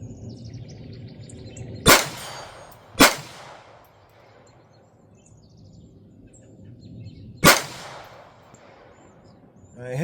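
Three sharp, loud pistol shots from a Kel-Tec pistol at a steel-plate target: two in quick succession, then a longer gap before the third, each with a brief ringing tail, outdoors with faint birdsong between.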